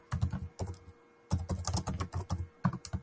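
Keyboard typing on a computer while building Figma components, with bursts of quick clicky keystrokes separated by short pauses, close and clear with no talk.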